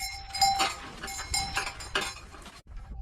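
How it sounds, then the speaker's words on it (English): Sheep scramble excitedly toward nuts at a nomadic camp, giving close bleats among clattering and rustling bursts over about three seconds, with no voices. "As soon as the sheep smelled the nuts, they immediately rushed over in excitement, scrambling to get a bite of the nuts."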